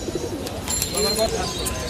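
Pigeons, including a pair of red patti birds, coo in soft, repeated rolling calls at a busy pigeon market in Kaptan Bazar, Bangladesh. People talk nearby and their voices overlap the birds.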